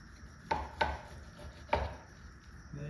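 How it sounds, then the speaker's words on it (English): A knife cuts through crusted pork loin on a board, three crisp crunching cuts, two close together and one a second later, quiet and close with no voices. "Let me try to cut this piece of loin into 3 slices."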